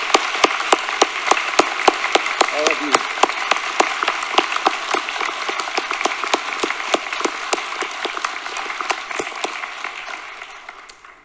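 Audience applause fills a university academic awards ceremony, sustained dense clapping from a large crowd that holds steady for about ten seconds before tapering off, with a brief spoken phrase near the start.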